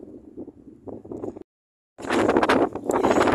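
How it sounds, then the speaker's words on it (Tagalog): Strong wind gusting across Tseung Kwan O Bridge during a drizzly walk: a low rumble, a brief dropout to silence, then a loud, roaring buffet of wind noise on the microphone. "Grabe, ang lakas ng hangin."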